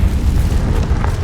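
A Confringo fire spell bursts in Hogwarts Legacy as a loud, dense low boom that rumbles steadily without a clear attack, close and filling the whole moment.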